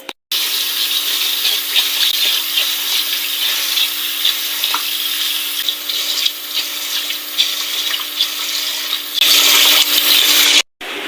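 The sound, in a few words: washing glutinous rice in water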